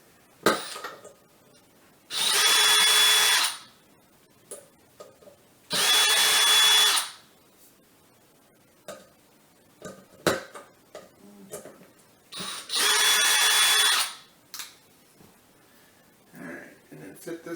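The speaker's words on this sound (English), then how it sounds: "we're going to take these screws out" A power drill backs screws out of a ceiling fan in three loud whirring bursts, each one to two seconds long, separated by quiet clicks and handling knocks of the hardware.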